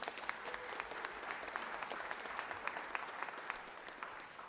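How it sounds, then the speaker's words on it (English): Applause fills the Georgia Senate chamber for a Boy Scout standing with a senator, a steady, crowded patter of many hands heard at moderate distance and lasting throughout. "Can I get a round of applause for him?"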